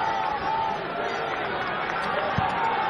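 Subdued murmur of a disappointed football stadium crowd at Turner's Cross after Ireland concede to Belarus, a steady low chatter and hum with no cheering, heard under commentary.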